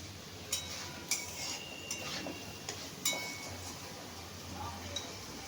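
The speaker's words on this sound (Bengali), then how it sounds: "আমি এরপরে এটা কষতে দিচ্ছি, কষা হোক" Masala fried and stirred in a pan: a spoon clinks against the pan at a loose, regular pace over a constant sizzling hiss, moderately close.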